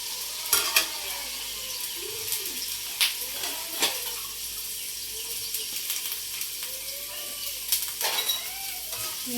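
Potatoes deep frying in hot oil crackle and sizzle steadily while a utensil stirs them now and then, scraping and clinking against the pan in scattered bursts, with no voices.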